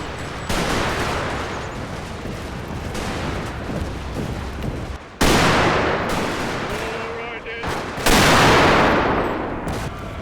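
Rifle volleys and artillery fire in a Total War battle between Zulu and British forces at Gingindlovu; dense, continuous crackling gunfire with heavy booming bursts, loud and sustained, under faint narration.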